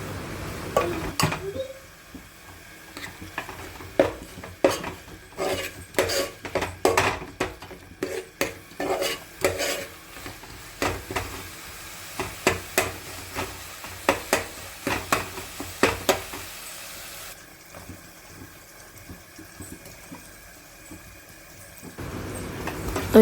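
A spoon stirs turmeric and chili powder in a cooking pan for a curry, giving quiet repeated scraping and clinking strokes in an irregular rhythm over a faint background hiss, then a short pause near the end.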